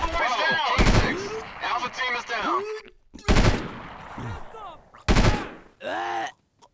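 Gunfire in the video game Delta Force 2: several sharp, loud bursts of shots spaced a couple of seconds apart, mixed with in-game groans and voice sounds.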